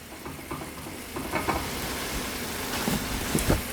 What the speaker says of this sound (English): We're going to let it just cook and continue to simmer.